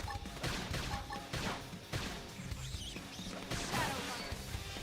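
Gunfire in the video game Xenoblade Chronicles X during a combat sequence, a dense run of rapid, loud bursts and crashing impacts layered with battle effects.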